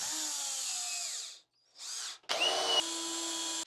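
A power drill countersinks short 1.25-inch screws deep into found lumber, whining in two loud bursts split by a short pause and a brief spin-up.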